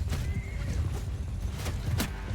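Horses neigh and whinny over rumbling hoofbeats during a cavalry battle with horse archers in the video game Mount & Blade II: Bannerlord, a loud, dense, continuous din with several whinnies rising above it.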